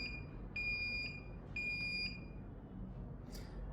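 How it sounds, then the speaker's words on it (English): Quiet electronic alarm beeps from a clean room digital pressure indicator sound in a short repeating pattern: a few high, steady tones separated by pauses, over a low background hum. "And this is how the alarm is triggered."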